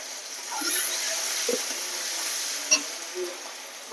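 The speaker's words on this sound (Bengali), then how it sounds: "এখানে আমি থেতো করে রাখা রসুন আর আদা দিয়ে দেবো।" Crushed garlic and ginger hit hot oil in a pan after potatoes are fried, giving a steady close sizzle with a few stirring clinks and scrapes, no talking.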